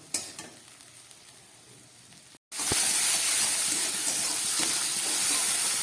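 Onion and tomato frying in a pan as the gas is turned up to medium, starting as a quieter sizzle, then after a brief drop jumping into a loud, steady, hissing sizzle that continues to the end.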